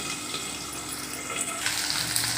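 Potatoes frying in hot oil with crackled spice tempering, a continuous close sizzle that swells with a brief stirring burst near the end.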